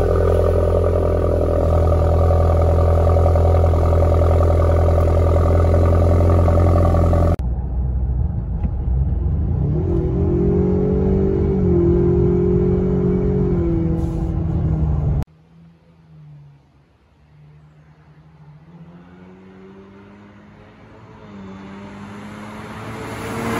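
A Ford Ranger's turbocharged 2.3L four-cylinder engine breathes through an AWE exhaust system. It holds a loud, steady droning idle, then rises in pitch as it revs, then settles to a quieter, lower rumble before swelling again near the end.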